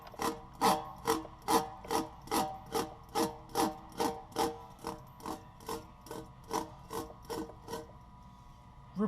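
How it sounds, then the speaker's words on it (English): A scraper tool working out the inner liner after pre-buffing: a steady rhythmic series of about twenty close rasping strokes, evenly spaced and gradually softening toward the end. "go ahead and use the pre-buff and the scraper tool to scrape out the inner liner"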